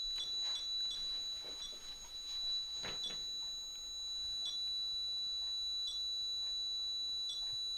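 A ghost-hunting detector device beeps in short, repeated electronic bleeps at irregular intervals, with a steady high tone running beneath, heard alone with no talking.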